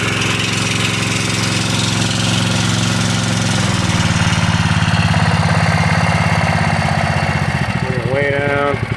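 A gold dredge pump engine runs loud and close with a steady low chugging drone that drops in pitch and slows as it is throttled down toward idle.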